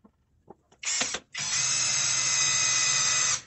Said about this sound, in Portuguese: Vou fazer um teste em perfuração de metal. Vou começar com a alta rotação.